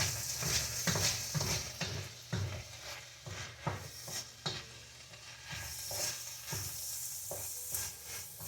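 Vegetables sizzle in a pot on the stove, a soft steady frying hiss under irregular scraping stirs and clinks of a utensil against the pot, fairly close and moderately quiet.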